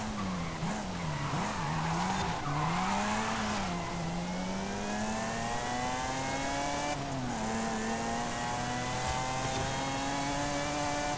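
A Lotus in Forza Horizon 5 runs under a steady, loud supercharger whine, layered with engine harmonics that rise and fall as it accelerates. Tire skidding noise sits beneath it throughout.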